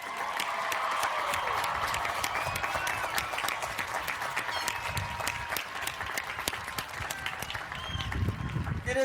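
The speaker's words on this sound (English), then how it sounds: "Let's give all the graduates a round of applause." Audience at a Millersville University spring commencement applauding the science and mathematics graduates, sustained crowd clapping heard from a distance, with scattered murmuring voices and sporadic louder claps throughout.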